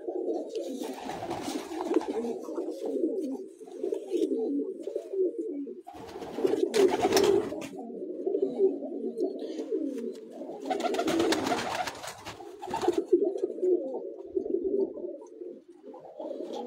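Pigeons coo in soft, repeated throaty phrases, steady and fairly close, with a few bursts of broadband flutter or rustle between calls.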